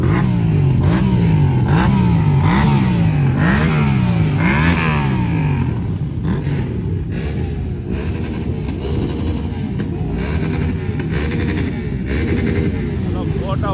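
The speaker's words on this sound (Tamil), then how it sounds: "இந்த வண்டியை பாருங்க, யமஹா டாமினேட்டர்." A Yamaha Dominator motorcycle at an outdoor bike show revs loudly in a run of rising and falling bursts, then settles into a sustained close engine roar, with voices in the background.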